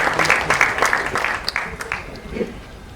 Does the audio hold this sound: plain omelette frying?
no